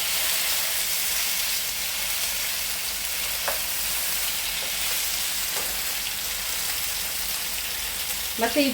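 Masala-coated food fries on its second side in a pan with a loud, steady hiss and sizzle. A few faint stirring taps sound, and a brief voice speaks at the very end.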